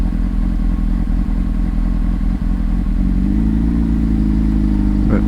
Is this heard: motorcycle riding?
yes